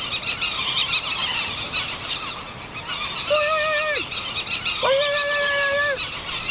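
A man imitates the calls of Solander's petrels in island scrub on Lord Howe, giving two drawn-out wavering squeals, each lasting about a second, over a dense bed of bird chatter.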